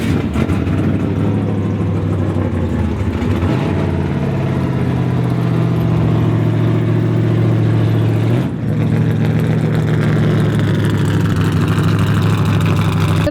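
A small, high-pitched racing car engine runs steadily close by, droning and revving continuously with a brief dip partway through.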